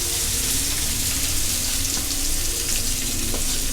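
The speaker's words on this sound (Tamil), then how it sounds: "நம்ம கட் பண்ணி வச்சுருக்க வெங்காயத்தை அதில் சேர்த்துக்கலாம்" Chopped onions fry in hot oil with spices for green chicken curry, a dense, loud and constant crackling sizzle heard up close without any talk.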